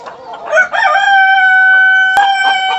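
A China Homa rooster at a chicken farm crows once, loud and close, a long sustained call with a brief cluck or squawk breaking in near the end.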